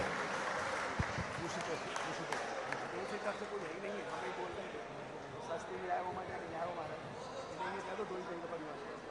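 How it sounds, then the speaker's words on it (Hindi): A large audience at a Jain religious discourse breaks into loud, sustained applause, a dense crackle of clapping that fills the hall throughout while a voice talks over it. "जोरदार तालियां"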